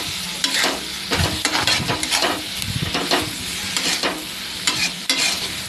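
Tomatoes with cumin powder fry in oil for an egg masala, a steady close sizzle broken by repeated scraping stirs of the spatula in the pan, with no voices.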